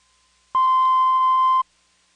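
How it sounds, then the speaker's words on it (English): A single steady electronic cueing tone from a telephone company's master recording tape, a pure beep lasting about a second, loud and clear against near silence. "it's the cueing tone from the master tape"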